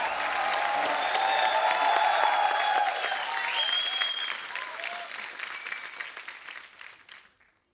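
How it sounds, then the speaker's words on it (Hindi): Loud studio audience applause greeting guests on a comedy talk show, a dense roar of clapping with music running underneath that tapers off toward the end. "जोरदार तालियां।"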